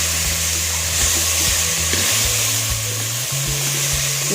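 Broccoli sautés in a hot pan with a steady, loud sizzle, broken by a few soft stirring knocks.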